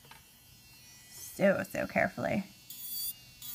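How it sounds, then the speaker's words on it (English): Electric nail file with a medium grit carbide bit buzzes in short whining bursts and then a steadier high hum while reducing acrylic on a pink and white nail repair, close up, with a voice speaking briefly before it. "So I'm going to take my electric file with a medium grit carbide bit"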